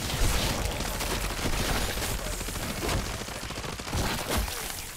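A gun in MW3 Zombies fires steady bursts of rapid shots in dense, loud, continuous volleys, with no speech over the shooting.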